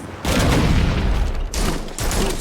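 A loud volley of gunfire in the Gotham Knights video game, heavy overlapping shots with booming low end in two bursts separated by brief dips.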